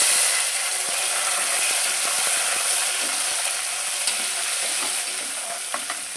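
About ten dried red chilies and a tomato sizzling in hot oil in a frying pan, a loud continuous close-up hiss with scattered scraping and stirring clicks, no voices.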